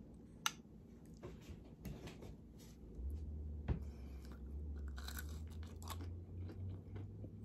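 Someone bites into and chews a piece of baked stuffed apple, with close, quiet crunchy bites and mouth sounds spread over several seconds against a low background hum.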